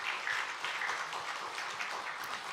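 A church congregation applauds newly baptized members at a Christmas service, steady continuous clapping from many hands that fills the room at moderate volume throughout.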